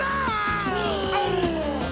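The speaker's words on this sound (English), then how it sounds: "Electronic stretch screamers. They scream when you stretch them and come back for more." An electronic stretch screamer toy lets out a continuous warbling, wailing electronic scream, loud and close, with a pitch that bends and slides throughout.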